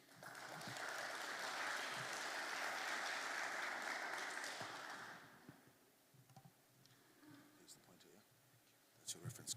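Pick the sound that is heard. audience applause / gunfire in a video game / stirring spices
audience applause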